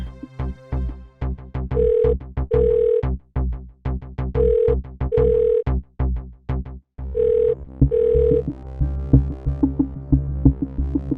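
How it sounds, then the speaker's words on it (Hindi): An unanswered phone call in a crime drama gives a repeating ringback tone: paired steady beeps recurring at regular intervals, mixed over loud, pulsing dramatic background music, with no one speaking. "अब तो अभय भी फोन नहीं उठा रहा।"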